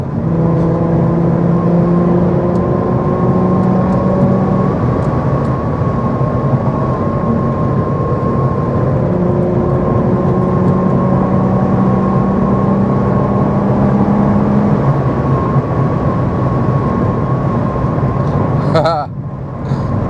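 An Infiniti Q50 fitted with a Megan Racing Y-pipe pulls hard under acceleration, its loud droning exhaust rising and holding in pitch for about twenty seconds, with someone talking over it from inside the car.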